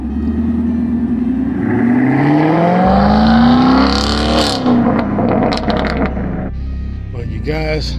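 A Chevrolet Camaro SS drives by close and loud, its engine rising in pitch as it accelerates past and fades, followed by a second burst of engine noise.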